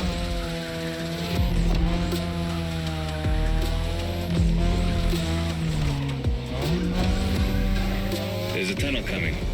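A 2002 third-generation Mazda RX-7 with a rotary engine races in a video game, its high buzzing exhaust climbing and dropping through repeated gear changes, with brief tire squeals and a voice talking over it.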